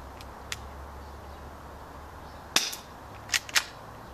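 Blackviper M92 airsoft pistol firing, with a few sharp, faint snaps spaced irregularly over a quiet background hum, the last two coming close together.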